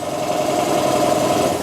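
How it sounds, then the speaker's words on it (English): A small portable air compressor used to inflate electric bike tires runs continuously with a steady, buzzing mechanical rattle and a strong hum, close and fairly loud throughout. "All right, I got my compressor going"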